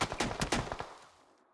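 A burst of rapid gunfire from a weapon in PUBG: about eight sharp shots in quick succession, loud and close, trailing off into a short echo tail with no talking.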